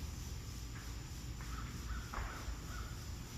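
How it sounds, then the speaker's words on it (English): Crows caw faintly several times from a distance over a steady background hiss. "I want to connect further with the crows."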